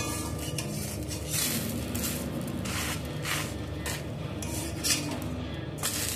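Metal spatula scraping and lifting thin, soft chakli pitha off a kadai, giving steady close scraping and light clatter with a faint sizzle underneath and no talk.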